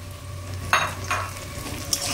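Potatoes drop into a pan of frying onion and ginger. A low continuous sizzle runs throughout, with a few sharp scraping and stirring bursts from a utensil against the pan.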